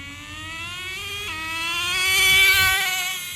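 Nitro engine of a Traxxas 4Tec RC car, a Pro .15, whining at a steady high buzz that dips briefly, then rises louder and fades slightly, heard alone without voices.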